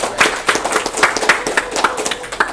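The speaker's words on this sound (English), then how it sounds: "Let's first off give another round of applause to Nicholas" A club meeting audience claps in a round of applause for a presenter, dense overlapping hand claps forming a steady, lively patter at close range, with no talk over it.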